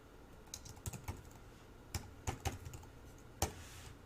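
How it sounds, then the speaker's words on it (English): Keys clatter on a computer keyboard in short, separated bursts of clicks, moderately close and clear, with brief pauses between the taps and no voices present. "here we're just going to type in the name of the member"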